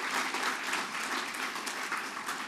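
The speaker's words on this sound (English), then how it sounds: "Let's give her a huge round of applause." Steady applause from an audience at a New York legislation signing event honoring Holocaust survivors, a dense, even wash of clapping that holds for the whole stretch at moderate distance, with no talk over it.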